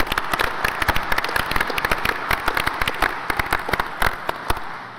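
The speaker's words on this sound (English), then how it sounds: "Please give these gentlemen a round of applause." A small audience at a Cleveland-Cliffs Coshocton Works steel plant press conference claps. Individual sharp claps stay distinct in an uneven, moderately loud burst that tapers toward the end, with no voices.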